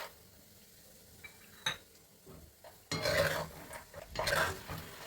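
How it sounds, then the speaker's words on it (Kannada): Groundnuts being fried for a bakery-style mixture, clinking and scraping against a pan with a soft sizzle, then growing into a louder bubbling crackle as they go in, close by with no talk. "ಈಗ ಕಡಲೆಕಾಯಿ ಬೀಜ ಗ್ರೌಂಡ್ ನಟ್ ಹಾಕ್ತಾ ಇದ್ದೀನಿ"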